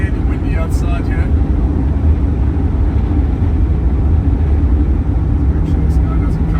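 1985 Mercedes-Benz W123 280E automatic cruising at 3,500 rpm on a windy highway, a steady, even engine and road drone with wind rush, unchanging throughout.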